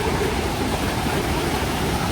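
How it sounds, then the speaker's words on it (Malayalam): Fast-flowing water rushes at Vattai waterfall in Kerala, a dense, steady roar heard close and loud with no pauses. "വെള്ളം ഒഴുകണതിന്റെ ഒരു സ്പീഡ് നോക്കിയേ"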